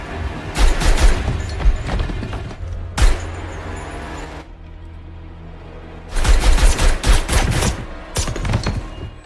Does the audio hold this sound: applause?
no